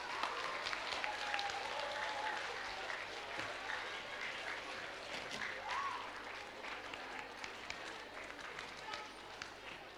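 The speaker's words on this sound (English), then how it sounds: "let's give them all a big round of applause." Auditorium audience at an inter-school poetry and storytelling competition applauding the judges, a steady broad wash of clapping filling the room throughout, with some voices mixed in.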